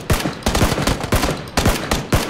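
Gunfire in the battle-royale game PUBG, five sharp shots spaced about half a second apart, each with a loud crack and brief echoing tail, close and alone without talk.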